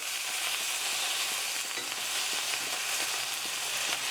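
Salmon searing in a hot skillet with a steady, dense sizzle that stays loud and even throughout, with no talking.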